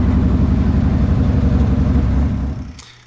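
A Weasel tracked vehicle with freshly replaced exhaust gaskets runs loud and steady with a deep, even engine rumble, then trails off in the last half second.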